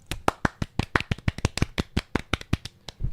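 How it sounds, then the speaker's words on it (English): A small group gives a brief round of applause during a casual podcast-style chat, quick, loud, close-up claps in a fast irregular patter from only a few hands, with no talking over them. "a little round of applause for my special sponsor."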